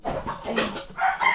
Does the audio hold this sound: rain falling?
no